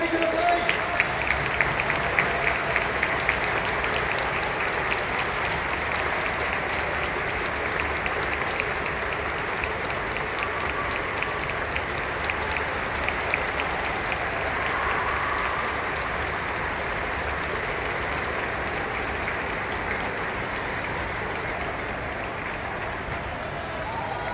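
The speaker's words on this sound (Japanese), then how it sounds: "最後まで戦いました両チームの監督コーチそして選手に大きな拍手を" Sustained applause fills Tokyo Dome for both teams after a women's baseball game between the Yomiuri Giants Women and Hanshin Tigers Women, steady crowd clapping throughout with faint voices mixed in.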